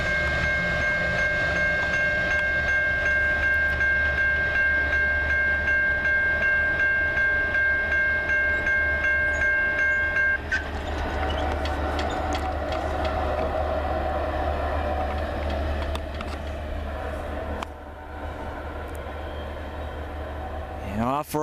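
CN freight train S763, with GECX 497 353 at the rear and no distributed power unit, rolls steadily past nearby in Ladysmith, a continuous loud rumble with wheel clatter and squeal; a tonal horn-like drone fades midway.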